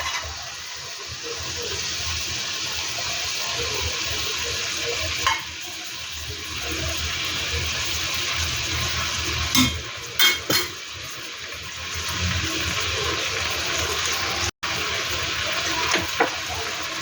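Skinless sweet garlic longganisa sausages cooking in water left to simmer in a pan give a steady bubbling and hissing, constant and close, with a few brief clinks and no speech.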